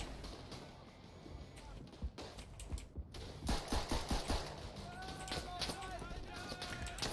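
Rapid rattling light machine gun fire in the First World War shooter Verdun, steady bursts of close shots mixed with distant battle noise, with a player talking over the shooting.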